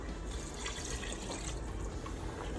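A cup of beef broth pours into a pot in a home kitchen for lasagna bolognese, a soft, steady liquid trickle and splash heard quietly and alone for a couple of seconds.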